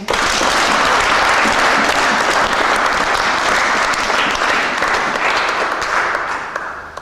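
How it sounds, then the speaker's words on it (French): A church congregation bursts into sustained, loud applause to acclaim Jesus during a service, a dense steady wash of clapping that holds for several seconds before tapering slightly at the end. "On peut acclamer Jésus."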